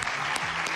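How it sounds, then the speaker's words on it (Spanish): Brief applause from the audience at a televised singing competition knockout round, a short burst of clapping with a couple of sharper accents. "Este aplauso entonces para Julio"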